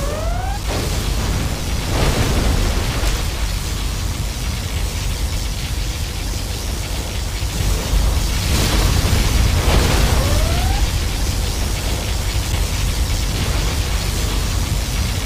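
In Command & Conquer Generals Zero Hour, a particle cannon fires in a heavy, roaring blast, with booming bursts and rumbling noise surging across the battlefield, rising sweeps near the start and again midway.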